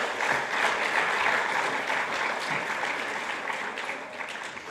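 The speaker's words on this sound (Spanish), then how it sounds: "Un aplauso más para el Señor." A church congregation at a Bible seminar keeps up steady applause for the Lord, a dense, even wash of many hands clapping that holds throughout and fades slightly at the end.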